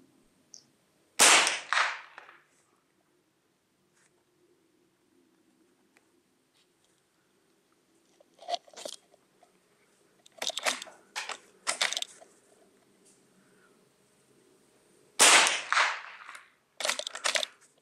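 Several .22 LR rifle shots fired at a long-range target in light crosswind, sharp cracks standing alone: one near the start, a cluster of quick reports mid-way, and a final pair close together, with quiet pauses between.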